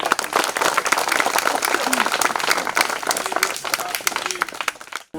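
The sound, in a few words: loud applause from audience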